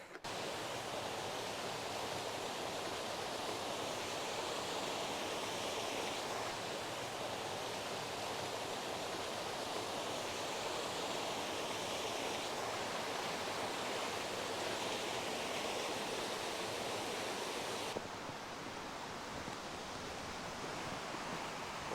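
Whiteoak Canyon waterfall in Shenandoah rushes steadily as a loud, continuous broadband roar of falling water, with no voices.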